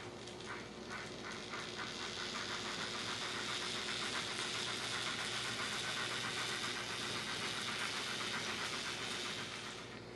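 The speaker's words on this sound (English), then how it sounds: "Yeah, the gears in the motor are a little bit loud." Gears grinding inside the motor of a Rivarossi N scale 4-6-2 Pacific steam locomotive running on DCC with a Loc Sound decoder, a steady whirring mechanical hum with a faint rapid ticking pulse, continuous and fairly quiet.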